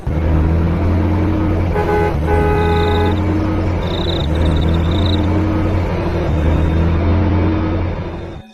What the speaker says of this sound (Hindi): फिर वो तीनों गाड़ी में बैठ जाते हैं और वहाँ से भागने लगते हैं।